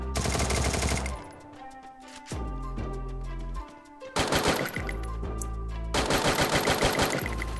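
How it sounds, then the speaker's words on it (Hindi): Gunfire in the Free Fire video game: loud bursts of rapid automatic fire in several volleys with brief gaps, close and dominant, with echoing tails and no voices. "चलो इधर ही फायरिंग हो रहा है जस्ट."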